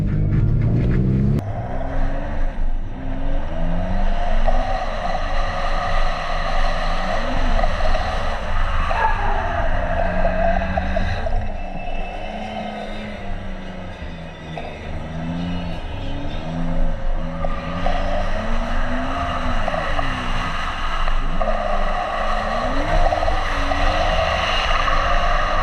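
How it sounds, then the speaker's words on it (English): A car drifting on a track with no nitrous: a loud, sustained engine roar with revs rising and falling, mixed with continuous tire skidding and squeal, steady for most of the run with a brief dip midway. "we're gonna start off drifting with no nitrous"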